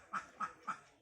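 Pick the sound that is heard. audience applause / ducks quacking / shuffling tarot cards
ducks quacking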